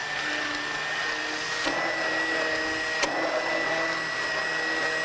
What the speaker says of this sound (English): if you have an immersion blender, keep it under the surface of your soup.